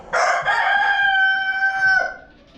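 A backyard rooster crows once, loud and close, a long drawn-out call lasting about two seconds, with faint clucking from other chickens around it.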